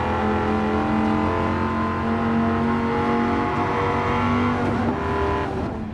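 A 2013 Dodge Viper GTS in Gran Turismo 7, heard from the interior, drones loudly with a steady, rich engine note, the pitch sliding upward then dropping near the end as it shifts, with no talk.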